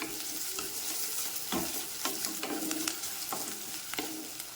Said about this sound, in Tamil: போட்டு வதக்கி விடுவோம். வெங்காயம் நல்லா வதங்கட்டும்.